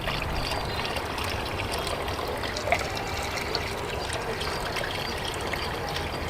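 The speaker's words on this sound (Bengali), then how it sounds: "পানিটা এখানে ঢালতে হবে" Water poured from a mug into a fish tank makes a steady, close splashing trickle that runs continuously throughout, with no talk.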